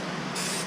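Short, close burst of spray from an aerosol can coating a BMW E36 interior trim piece in preparation for carbon fiber, a steady hiss that grows slightly brighter midway.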